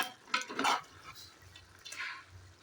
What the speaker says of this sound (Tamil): கறி எண்ணெயில் நல்லா வதங்கிட்டுருக்கு.